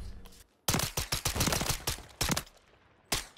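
Rapid pistol gunfire from the X12 in Call of Duty: Modern Warfare 3, a dense burst of close, loud shots in quick succession, then a pause and two more separate bangs.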